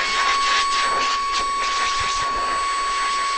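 Brushless vacuum cleaner running in blower mode, a steady high-pitched motor whine with a constant rush of air, close and continuous without speech.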